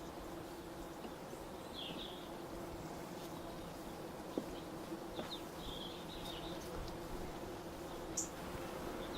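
Honeybees at a hive in a community orchard during a summer beekeeping inspection, a steady low buzzing drone of many insects that runs throughout, fairly close, with a few faint higher chirps over it.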